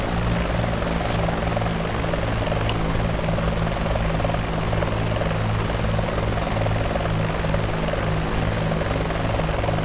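Bell 412 helicopter in the X-Plane 11 flight simulator during a landing, a loud continuous rotor thrum with steady low beating and engine whine, unbroken and close for the whole stretch.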